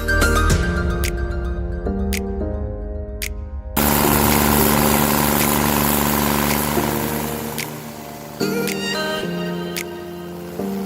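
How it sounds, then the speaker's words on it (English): Stump grinding machine with its engine running, a loud, continuous mechanical drone with shifting pitch and a sudden surge in intensity partway through, close and steady with no voices. "A worker is operating an automatic grinding machine"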